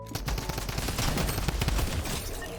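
A drum gun fires in a Fortnite arena match, a loud rapid unbroken burst of automatic shots lasting the whole stretch, close and dense.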